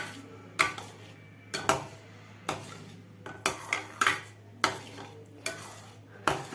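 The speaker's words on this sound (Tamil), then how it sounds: "கிண்டுறதை நிறுத்தக்கூடாது." A ladle scrapes and clanks against a pot of milk payasam simmering on a low stove, sharp metallic knocks recurring every half-second to second over a faint steady bubbling hum.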